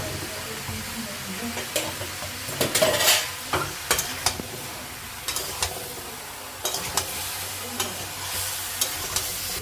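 Potato, carrot and papaya pieces tumbling into a pan for Bengali chicken stew, followed by a run of scraping, clinking stirs against the metal over a soft sizzle, with a louder burst of clatter early on.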